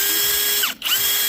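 A compact cordless screwdriver whirs at a steady pitch, briefly dips and stops, then spins back up and keeps running, loud and close with no voices.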